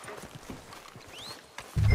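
Horse hooves clip-clopping on a street in Red Dead Redemption 2, a quick steady run of close hoofbeats with a brief whinny-like squeal mixed in, ending on a louder thud.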